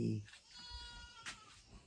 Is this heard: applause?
no